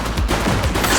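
Rapid gunfire in the police video game The Precinct, a loud, dense burst of overlapping shots packed into about a second, with no talk over it.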